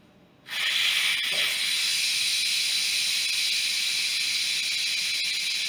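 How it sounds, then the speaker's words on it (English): Steam hisses loudly and steadily from a pressure cooker during a quick release after chicken and broth have cooked, the hiss starting abruptly after a short quiet moment and holding without a break. "Now we are going to do a quick release."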